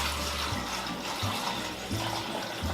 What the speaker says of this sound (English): So take your brine, pour it in this bag